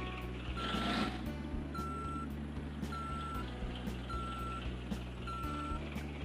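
Fuso Fighter tronton truck reversing in Bus Simulator Indonesia, evenly spaced electronic reversing beeps repeating over a steady diesel engine hum, fairly quiet.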